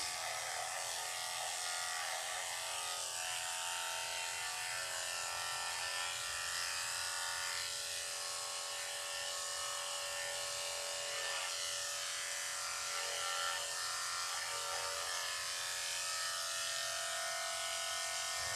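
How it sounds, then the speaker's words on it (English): Electric clippers buzz steadily while shaving a white standard poodle's face during grooming, a close continuous hum with slight shifts in pitch as the blade moves across the muzzle and cheeks. "going to start with shaving her face"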